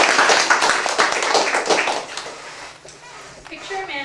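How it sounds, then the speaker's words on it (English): An audience applauds a presenting group of three in a room, a dense burst of clapping that fades over a few seconds, with voices audible underneath. "So let's give a round of applause to Michelle, Myles, and Arnulfo."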